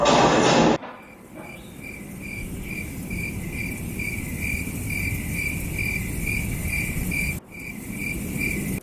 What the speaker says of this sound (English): Can anybody else hear the crickets? They're very loud.